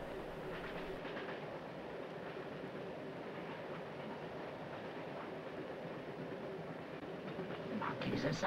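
Moving railway carriage in a 1931 film: faint, steady rumbling clatter of wheels on track, continuous and muffled, rising slightly at the end.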